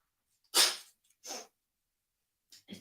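A Scottish bulldog sneezes close by, a sharp burst followed by a shorter snort, then after a pause two quick snuffly breaths.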